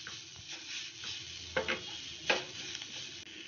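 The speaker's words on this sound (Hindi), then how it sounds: "अब इसमें हम कटा हुआ हरा धनिया ऐड कर देंगे और इसे अच्छे से मिक्स कर लेंगे" Roasted moong dal mixed with chopped coriander is stirred in a pan, with soft scraping strokes and a faint sizzle, plus a few light clinks of the utensil against the pan, quiet and without talking.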